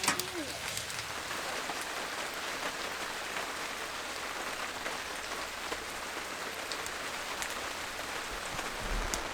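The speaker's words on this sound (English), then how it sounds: "Getting some good rain." Rain falls steadily on a hot tent during a camping trip, a dense, even patter of drops on fabric that is loud and close and continues without a break.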